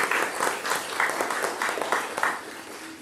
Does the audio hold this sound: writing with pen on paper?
no